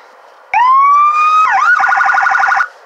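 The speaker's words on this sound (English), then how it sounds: "Sirens, police lights," Police siren from a 2001 Ford Crown Victoria in the Roblox driving game Greenville, a loud close electronic wail rising in pitch, dipping briefly, then switching to a rapid warbling yelp before cutting off.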